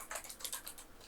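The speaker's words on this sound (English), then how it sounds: "I'm going to type" Quick, light keystrokes on a computer keyboard come in a short burst of clicks, close by and quiet, with no voices.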